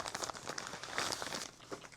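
A plastic pouch crinkles and rustles up close as it is unpacked from the box of a DJI Mic 3 wireless microphone, with a dense, continuous run of crackling lasting a couple of seconds.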